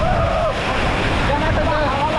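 Strong wind buffets a microphone at Kynrem Falls in Meghalaya, a steady loud roar with rushing water noise mixed in throughout, while someone speaks over it.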